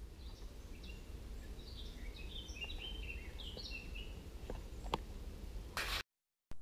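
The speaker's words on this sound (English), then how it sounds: "Our way leads us now through a forest, and you can hear the singing of the birds." Birds sing in a forest on a mountain hike in the Allgäu, Bavaria, with several short chirps and whistled phrases scattered over a quiet, steady background and a brief sharp click near the end.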